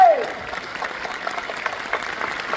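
Theatre audience applauding at a Marathi stage play, a steady wash of clapping that runs throughout, with a brief falling whistle-like tone at the very start.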